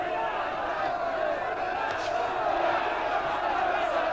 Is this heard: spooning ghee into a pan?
no